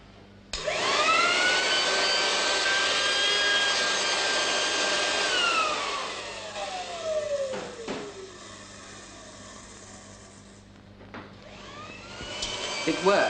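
Air rushes out around the rim of tin cans on a small model hovercraft for a thrust test, giving a steady loud blowing hiss that starts abruptly, holds for several seconds, then drops and fluctuates with brief tonal whines.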